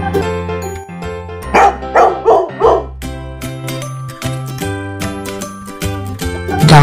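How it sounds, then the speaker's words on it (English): A dog barks four times in a quick run near the middle, loud and close, over tinkling bell-like background music. "Dog."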